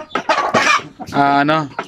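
Basilan native chickens cluck and squawk close by, a couple of loud, harsh calls followed by a longer drawn-out cry.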